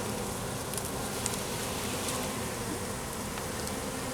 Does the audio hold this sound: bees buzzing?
yes